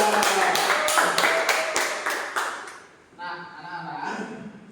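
Students in a classroom clap for two groups in an even, rhythmic beat of about a dozen sharp claps that gradually soften, followed by a voice speaking.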